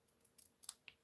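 Scissors snip through a looped piece of craft material in a studio, three or four quick, crisp, close cuts in a short burst, faint and with no speech.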